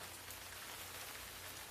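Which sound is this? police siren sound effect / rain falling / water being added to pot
rain falling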